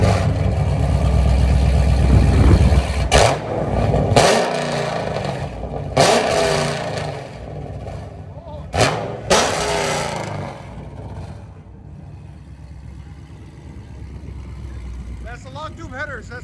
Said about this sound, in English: '17 Charger SRT8. It's got long tube headers, high flow cats. We did a mid muffler delete